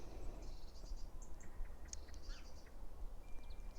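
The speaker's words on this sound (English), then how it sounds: "it's nice just to enjoy the birdsong" Birds sing in a cottage garden, with faint scattered chirps and tweets over a soft, constant outdoor background with a low rumble.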